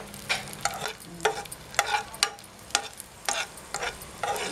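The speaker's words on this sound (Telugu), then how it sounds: "కిస్మిస్ వేయించుకుందాము." Raisins fry and sizzle in a pan while a spoon stirs them, the cooking done for broken wheat rava kesari. Crackling bursts and scraping stirs repeat close by in a steady uneven rhythm, with no voices.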